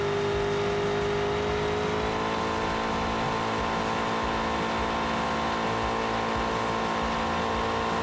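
A race car engine in a racing video game holds a steady droning pitch, then swells and climbs as power is gradually fed in, staying loud and continuous throughout.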